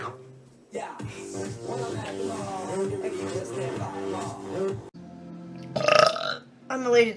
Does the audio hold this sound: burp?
yes